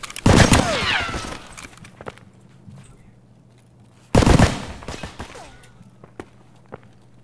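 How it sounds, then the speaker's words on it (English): Gunfire in the video game Escape from Tarkov: two loud bursts of automatic fire a few seconds apart, each trailing off into echoing decay, with scattered faint footsteps and single shots between. "Make some noise if you can, like shoot a little."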